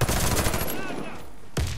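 Rapid automatic gunfire rattles in the Warface shooter game, a dense burst up front, a brief lull, then another sharp burst near the end.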